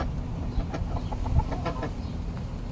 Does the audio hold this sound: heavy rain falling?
no